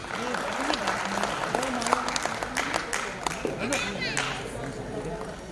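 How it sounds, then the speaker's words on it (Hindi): Applause from an audience at a Hyderabadi comedy golden jubilee stage show, a dense ongoing clatter of clapping mixed with crowd murmur and voices talking over it. "जोरदार तालियों में प्लीज।"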